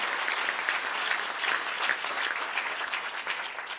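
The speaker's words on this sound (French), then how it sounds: "une bonne main d'applaudissement pour ces personnes diplômées" Broad, steady applause from a graduation ceremony audience honouring new graduates at the 2022 UQO convocation in Gatineau, a dense wash of clapping that holds evenly throughout with no voices over it.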